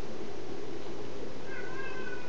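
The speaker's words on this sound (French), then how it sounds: "Désolé si vous entendez mon chat miauler." A cat meows in the background while someone plays Tom Clancy's The Division indoors, with a drawn-out, faint mewing call rising over steady game noise near the end.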